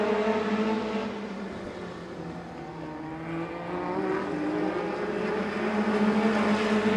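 Several stock cars roar around the oval at Agassiz Speedway at the start of a 30-lap race, engines droning loud and steady, swelling and fading slightly as the eight-car pack circles, with no talk.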